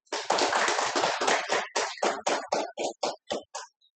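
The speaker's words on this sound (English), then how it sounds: "So one more round of applause for him." A short burst of applause for a speaker at a Toastmasters club meeting: a small group claps briskly, then the claps thin out into a few separate, slowing slaps before stopping, about four seconds in all.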